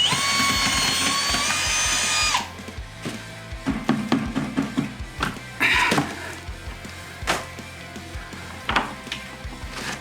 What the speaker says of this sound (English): don't forget to put your drill on low speed